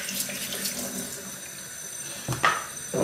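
Tap water runs over the parts of a Severin ES3567 slow juicer as they are rinsed in a sink, a soft continuous splash with a few louder spatters.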